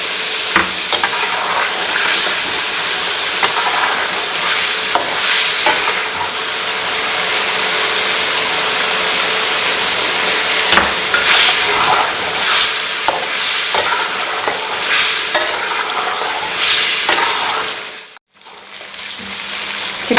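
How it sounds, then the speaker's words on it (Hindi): Chicken frying in a karahi for a Peshawari charsi chicken karahi, with whole and chopped green chillies in the pan. A loud, steady sizzle and hiss runs throughout, broken by stirring scrapes, with a brief dip near the end and no talk. "चिकन अच्छे से फ्राई हो गई"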